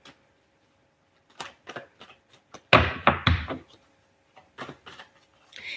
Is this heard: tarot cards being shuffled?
yes